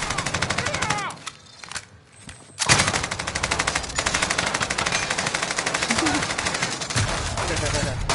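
Rapid automatic gunfire in an online shooter, loud and continuous with dense bursts, a brief lull in the middle, then sustained firing again to the end, with voices talking under the shooting.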